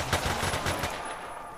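An M16 rifle in a zombies video game fires a rapid burst of shots. The close, crackling reports run for about a second, then the sound fades into quieter background noise.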